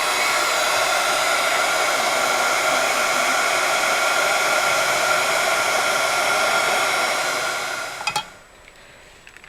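A heat tool blows steadily and loudly, melting embossing powder on a card stamped on scrap paper, a continuous whooshing roar that cuts off near the end and leaves faint quiet.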